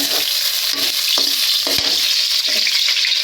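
Potatoes with bay leaf fry in hot oil with a loud, constant sizzle, broken by several sharp scrapes and knocks of a spatula stirring the pan, close up and without speech.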